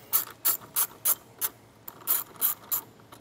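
Ratchet tightening a 10 millimeter nut at the main battery terminal connection of a Chevrolet Equinox, about nine quick clicking bursts close up in an uneven rhythm, with quiet pauses between them.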